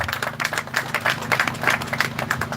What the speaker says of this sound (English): Please let me clap for them once again.